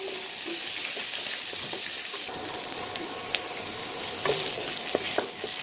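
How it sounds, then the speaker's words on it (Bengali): Chopped onion fries in hot mustard oil with cumin seeds and bay leaf, giving a soft steady sizzle punctuated by a few faint clinks and scrapes of a utensil, with no talking. "পেঁয়াজটা খুব ভালো করে ভাজা হয়ে গেছে।"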